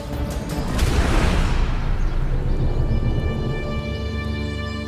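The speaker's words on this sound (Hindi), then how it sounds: "और एक धमाका, आवाज इस ओर से आई है" A deep, loud boom swells up and rumbles, then slowly fades away, leaving a steady tonal hum behind it.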